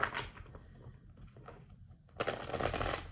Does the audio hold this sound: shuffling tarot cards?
yes